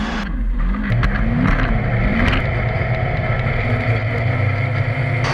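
Polaris RZR 900 engine held at full throttle while drifting on ice, a loud, steady close-up roar with shifting pitch and constant revving throughout.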